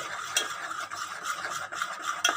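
Flour being stirred into sugar syrup to make a batter for oil-fried pitha, a steady scraping and swishing of a spoon against a bowl with soft repeated strokes, close and alone.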